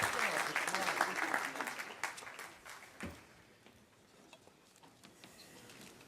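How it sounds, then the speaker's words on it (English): Conference audience applause at a gavel-passing ceremony in Chicago, a fairly faint burst of clapping that tapers off within a few seconds, leaving scattered claps and quiet room noise. "Can we have a round of applause,"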